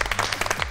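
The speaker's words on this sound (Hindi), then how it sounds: "तो तालियां बजाएं ज़ारा के लिए।" Studio audience clapping for a young singer named Zara on a Pakistani game show, a short loud burst of close, rhythmic claps.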